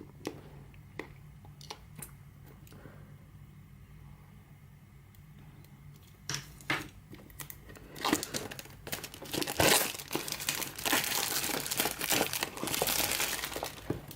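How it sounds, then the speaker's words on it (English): Plastic wrapping on a Samsung Galaxy S10+ box crinkles and tears as it is cut away, starting with faint scattered rustles, then growing into loud, dense crackling up close. "so let's cut the plastic"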